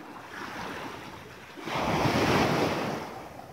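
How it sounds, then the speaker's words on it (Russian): Small, gentle sea waves wash onto an empty autumn beach at Arkhipo-Osipovka on a calm sea, a steady soft surf hiss that swells louder midway, with wind buffeting the microphone. "А море хорошее, спокойное. Ну, то, что вот здесь небольшие волны есть, это не страшно."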